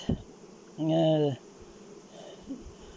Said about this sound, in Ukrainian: і от нам бджола вилетіла